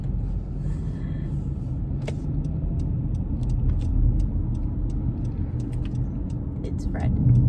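A car drives along with a steady low road and engine rumble inside the cabin, with faint clicks and a slight rise in loudness near the end.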